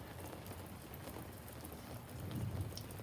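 Rain falls steadily during an outdoor graveside service, a soft continuous hiss of drops on surfaces with a faint low rumble swelling near the end, quiet and without speech.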